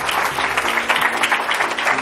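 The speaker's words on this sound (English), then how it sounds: "A big round of applause." An audience at a talk event breaks into steady, full applause, a continuous wash of many hands clapping with faint crowd noise.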